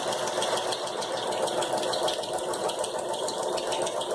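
A sewing machine stitches through paper with a steady, fast mechanical whir, its needle pulsing in an even rhythm, close up and continuous from start to finish.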